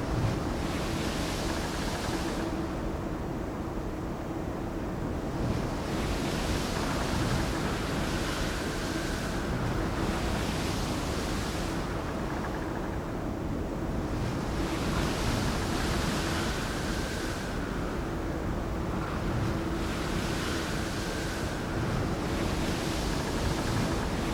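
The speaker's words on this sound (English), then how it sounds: "the wind whipped up some moderate waves" Steady roar of wind-driven sea waves surging in broad swells, heard aboard a ferry from Helsinki to Tallinn, with gusty wind buffeting the microphone throughout.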